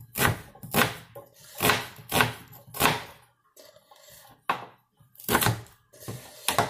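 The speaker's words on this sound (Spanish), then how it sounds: "Vamos cortando." Onion being chopped with a knife on a board, a run of firm rhythmic thuds in quick bursts with a short pause midway, close and clear.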